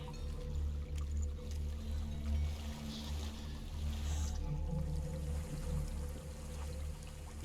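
In Hellblade: Senua's Sacrifice, water pours and splashes in a continuous, moderately quiet rush from a waterfall, with a low rumbling undertone.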